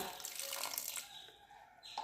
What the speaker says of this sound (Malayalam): നമുക്കിതിലേക്ക് പാകത്തിനുള്ള വെള്ളം ഒഴിക്കാം